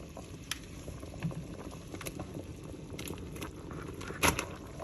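Pasta stirred into a thickened cream cheese sauce as it simmers on the stove, soft bubbling with scattered spoon clinks and one sharper scrape near the end, quiet and close, no talk.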